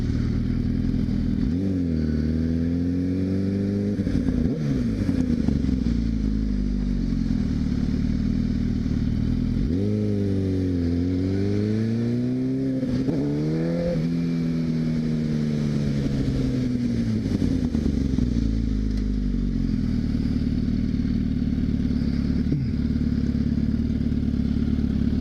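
Onboard a motorcycle lapping a race track at Arizona Motorsports Park: a loud, steady engine drone rising and falling in pitch as it revs through gear shifts, close to the microphone with constant wind rush underneath.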